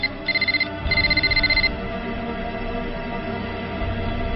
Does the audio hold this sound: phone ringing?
yes